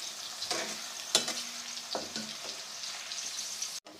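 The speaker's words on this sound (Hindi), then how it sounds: "तो अब हम इसमें डालते हैं प्याज, प्याज डाल दिए हमने, प्याज हो रही है ब्राउन" Onions fry in hot ghee in a pan with a steady hiss, broken by a few sharp clicks and scrapes of stirring.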